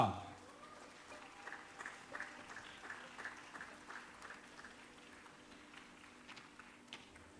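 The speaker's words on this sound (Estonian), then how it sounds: "Paluksime aplausiga vastu võtta Stig Rästa!" An audience at a gala in Tallinn applauds to welcome a performer, a fairly quiet, distant wash of clapping that rises after an opening announcement and then fades off.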